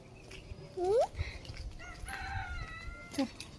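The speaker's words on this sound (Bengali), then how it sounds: "মুরগি তো ডাকতেছে" Village chickens cluck and a rooster gives a short crow at close range, with a few more clucks and calls following in an outdoor rural setting.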